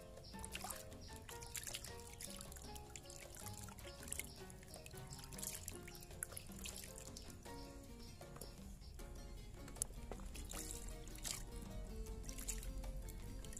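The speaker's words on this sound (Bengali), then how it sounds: "এখন আমি ভালো করে ধুয়ে নিচ্ছি।" Water splashing and trickling steadily as skinned goat legs are washed by hand in a basin, dense wet sloshing throughout with no voices.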